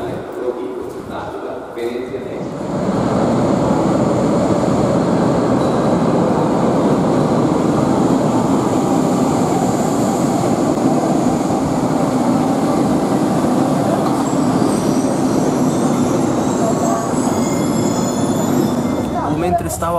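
A departing train rumbles steadily from close by, with broadband rolling noise and some higher squeal toward the end, and a few voices in the background.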